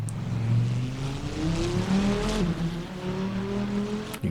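Race car engine from Assetto Corsa or rFactor2 on the Croft circuit, a close steady drone that drops off and climbs again through the hairpin, with faint tyre noise and no talking.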